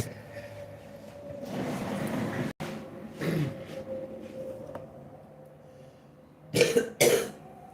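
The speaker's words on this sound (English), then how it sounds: "That's a smoker's cough." A harsh smoker's cough bursts out in several rough fits, with a couple of sharp coughs at the end, fairly close and moderately loud over a quiet room.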